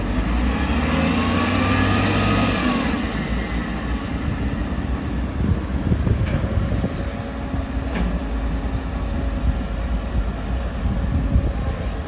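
A Komatsu PC200CE excavator working hard, compacted soil loading into a Sumo SM 227 dump truck: continuous loud diesel engine rumble with hydraulic whines rising and falling and occasional metallic clanks, close by and without talk.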